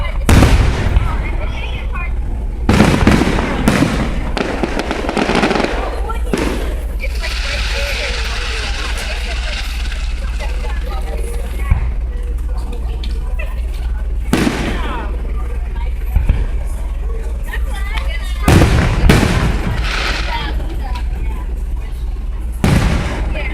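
Fourth of July fireworks burst in a series of loud booms spaced several seconds apart, with crackling between them and people talking faintly in the background.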